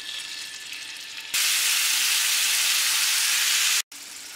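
Bacon-wrapped chicken breast rolls drop into hot vegetable oil in a pan and burst into a loud, steady sizzle that stays strong, briefly cutting out near the end before resuming.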